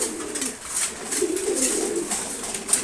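Pigeons eating their morning feed keep up a close, overlapping cooing, soft rolling calls rising and falling from several birds at once with light scratchy pecking noises.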